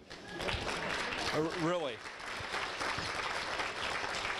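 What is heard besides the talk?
banquet audience applause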